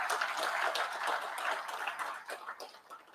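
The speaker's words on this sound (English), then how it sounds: "let's clap for the Ministry of Health." An audience applauds the Ministry of Health at the opening ceremony of the NACNDC & JASH 2025 conference, with steady, dense clapping from many hands that stays moderately distant and slowly thins toward the end, with no talking.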